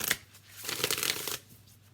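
A deck of oracle cards is shuffled close up in one brief riffling burst of papery flutter, quiet and alone.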